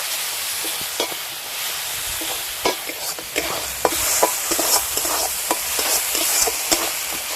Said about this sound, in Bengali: আবারও সব কিছু ভালো করে কষে নেব